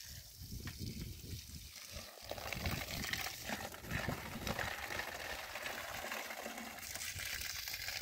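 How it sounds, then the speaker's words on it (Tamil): Water gushes forcefully from a 1.5-inch borewell pump pipe driven by an 800W BLDC motor, a loud, continuous rushing splash, close by and steady throughout. "ஆன் பண்ணிட்டால் தண்ணி எவ்வளோ தூரம் வருதுன்னு பாருங்கள்."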